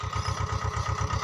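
A tractor engine idles close by with a steady, even low thumping pulse, loud and unbroken throughout, with no voices.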